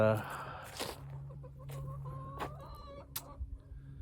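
Chickens clucking close by in a farm coop, with a few short calls over a low steady hum and a brief burst of talk near the start.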